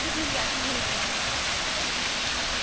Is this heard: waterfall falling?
yes